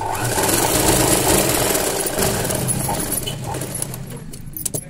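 Sewing machine stitching thread piping for a square-neck garment, a steady mechanical whir running continuously and fairly loud, easing off toward the end with a few light clicks.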